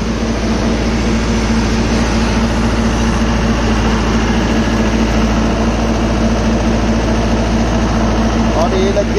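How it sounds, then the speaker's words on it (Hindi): A Mahindra 595 DI Turbo tractor engine runs steadily at about 1000 rpm in third low gear with both levers fully down, giving a loud, constant low drone with an even throb throughout. "मात्र 1000 चक्कर तीसरे किलो में ट्रैक्टर को चलाएंगे जी।"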